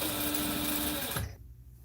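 A sewing machine stitches a garment made from a Butterick 4790 pattern, running in a fast, steady whir for about a second before it abruptly stops, leaving quiet room tone.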